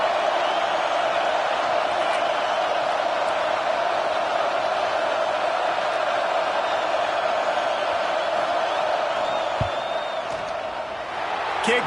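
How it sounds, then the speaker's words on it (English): Stadium crowd roar during a field goal attempt in the College Football 26 video game, a steady dense wash of cheering and whooping from thousands of fans that holds at a constant level throughout. "This crowd trying to do its part to get inside the kicker's head."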